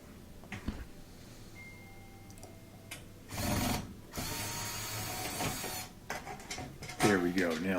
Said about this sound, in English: A couple more screws there to take out.